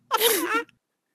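A single sharp sneeze, close and loud, bursting out once and cutting off abruptly, with a brief faint catch of breath just after.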